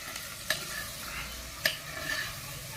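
Salted chicken pieces being stirred in a clay pot, soft scraping and shuffling with two sharp clinks of a spoon against the pot rim, close and quiet with no talking.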